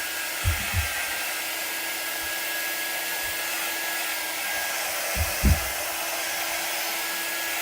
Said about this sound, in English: I'm going to dry it right away to get it start drying.